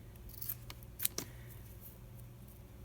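Scissors snip through folded paper while a heart shape is cut out, a few quiet, crisp cuts at uneven intervals in a hushed room with no talk.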